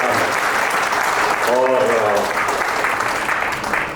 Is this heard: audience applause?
yes